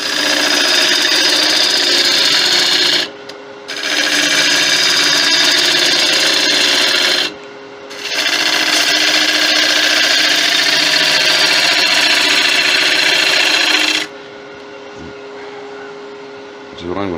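A Leylandii root ball spins on a woodturning lathe while a gouge cuts it, making a loud, steady broadband hiss and whir that breaks off twice briefly, then drops to a lower motor hum at the end.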